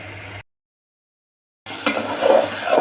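Spice masala sautéed and stirred in oil in a pan for a fish muri ghonto dish, a soft sizzle with scraping stir strokes after a stretch of silence, growing a little louder toward the end.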